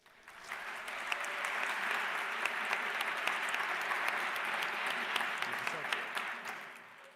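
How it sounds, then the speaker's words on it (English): A crowd at a Madrid welcome event for a new class applauds warmly, swelling in quickly and holding as a full, steady round of clapping with some voices mixed in before fading at the end. "Let's all give a big round of applause, Segovia, for Saul today."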